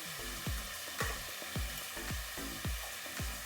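Bakanaj fish dusted with turmeric frying in a pan, a steady broadband sizzle broken by regular low thumps and scrapes of stirring every half second, close and moderately loud with no voices.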